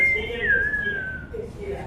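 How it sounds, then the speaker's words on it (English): A single whistle sounds, with one sustained, slightly wavering high tone held for nearly two seconds over a low background rumble. "I'm just going to pull my whistle out and blow it."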